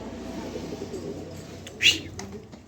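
A pair of racing pigeons coo softly at close range, with faint low murmuring and one brief sharper chirp or flutter near the end.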